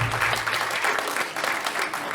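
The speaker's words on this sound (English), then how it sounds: "That's how knights applaud." Applause from an audience at a film premiere screening, with steady dense clapping throughout and no talking.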